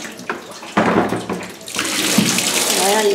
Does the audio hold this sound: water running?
yes